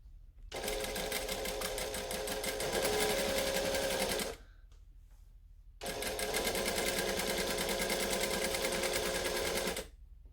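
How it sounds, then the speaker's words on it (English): A sewing machine stitches fabric in two runs of rapid, even mechanical rattling, forward stitching then back stitching, separated by a short pause, close and clear with no talk. "I'm going to stitch, we're going to back stitch."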